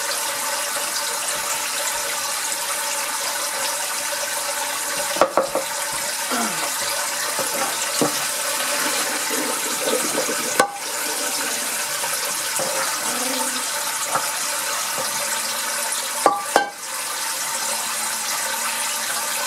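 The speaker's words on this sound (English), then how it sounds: "we'll go ahead and immediately get these strained, rinsed off, and then put into some cold water" Running water pours steadily as freshly harvested, blanched collard greens are strained and rinsed in a sink, a continuous rushing splash with a few clunks and knocks of handling.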